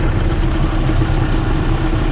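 A bus engine idles close by, its exhaust pipe nearby, giving a loud, steady low rumble and vibration with no breaks.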